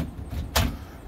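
A storm door being fitted into its frame, giving one short bright knock or clunk partway through, over low background rumble with no talking.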